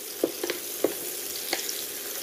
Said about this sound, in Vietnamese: Mình xào như vậy á, là cái củ hủ dừa của mình nó vừa thấm hành tỏi ớt